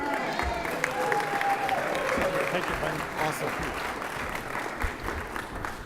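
Sustained audience applause greets the Honorable Kevin Johnson, mayor, at a mayors' tribute event, steady and dense throughout with crowd murmur and some voices mixed in.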